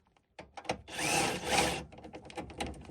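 A power tool, likely an impact wrench, spins loose a front suspension wishbone bolt on a Land Rover Freelander. Rattling hits lead into about a second of loud, steady mechanical whirring, followed by scattered metallic clatter close by.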